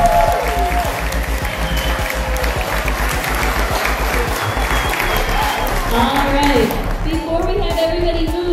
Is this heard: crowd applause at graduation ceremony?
yes